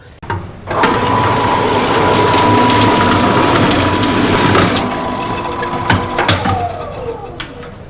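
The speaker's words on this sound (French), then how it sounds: "On utilise une machine, c'est les seules machines que nous ayons pour trancher les agrumes" A machine that slices citrus fruit runs with a loud, continuous mechanical whirring and gear rattle, with a few sharper clanks near the end.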